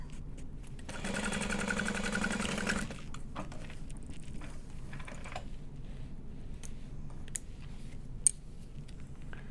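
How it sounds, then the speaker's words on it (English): A sewing machine stitches a seam on an Adena handbag in one quick, even run of about two seconds. Quiet clicks and handling noises follow. "we're just gonna sew up to that point, similarly to the exterior"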